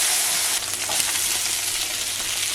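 Potatoes browning in a frying pan for a potato-poblano hash give off a steady, close, loud sizzle and crackle, continuous throughout with no talking.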